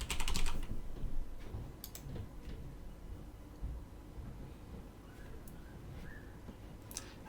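Quick bursts of typing on a computer keyboard, close and quiet, clustered keystrokes at the start and scattered single taps later over a faint steady room hiss, with no talking.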